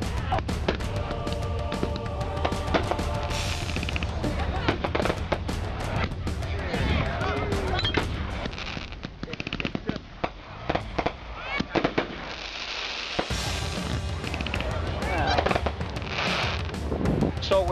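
Three-inch aerial firework shells thump up from launch tubes and burst in repeated sharp booms and crackles, some close and loud, others fainter. Voices talk and react among the explosions throughout.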